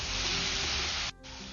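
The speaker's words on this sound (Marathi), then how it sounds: "गुळ आपण याच्यामध्ये छान मिक्स करून घेऊयात" Jaggery being mixed and melted in a pan for aliv laddu, a loud steady close sizzle and hiss that cuts out abruptly for a moment near the end, then resumes more softly.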